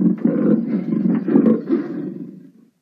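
A deep, rumbling leopard growl rolls on continuously for a couple of seconds, close and fairly loud, then fades out.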